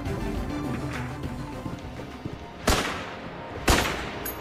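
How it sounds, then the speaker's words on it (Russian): Gunfire in the Enter the Gungeon video game: a busy rattle of shots and game noise, punctuated by two loud, heavy blasts about a second apart. "Это выстрел, типа."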